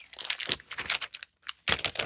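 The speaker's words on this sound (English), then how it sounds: "I'll just pop it in this plastic bag" A plastic bag crinkles as a piece of fabric is slipped inside, with a close, crisp run of irregular rustles and a short pause before a final burst.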